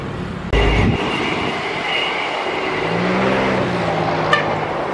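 The Serayu passenger train rumbles steadily into a station, with wheel and rail noise building, a low engine drone and a brief high squeal near the end.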